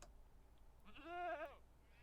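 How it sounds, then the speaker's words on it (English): A screaming goat in a video game gives one drawn-out bleat of about half a second. It starts in a quiet stretch, rises to a harmonic-rich wail, then stops short. "this guy here is a screaming goat that I found"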